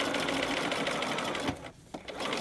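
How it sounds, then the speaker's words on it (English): A sewing machine stitches a piped pocket with a rat-tail cord under the foot, running steadily and close, then briefly pausing before starting up again. "you want to give it a little bit of a pull towards the right as you sew"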